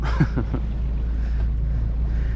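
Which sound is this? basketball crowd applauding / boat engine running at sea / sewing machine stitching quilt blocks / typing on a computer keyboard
boat engine running at sea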